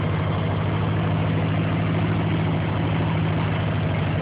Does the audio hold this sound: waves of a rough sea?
no